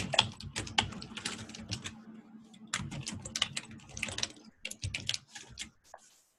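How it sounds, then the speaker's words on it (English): Rapid keyboard typing clatters in irregular bursts of sharp clicks, close and fairly loud, with a low steady hum beneath and brief pauses between runs of keystrokes. "Someone's typing."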